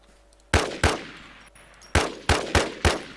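Video game gunshots, five sharp close cracks: two in quick succession, a pause, then three more in a fast rhythm, each with a short decaying tail.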